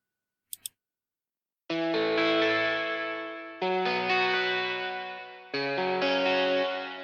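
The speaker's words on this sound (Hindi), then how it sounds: "चंक गिटार का यूज़ किया है। मैं आपको एक बार ये साउंड सुना देता हूँ इसका अकेले का।" A chunk guitar sound from the Halion 6 instrument in FL Studio plays a simple pattern in three bright, distorted, chorused strummed hits. Each rings and decays alone after a couple of quick clicks.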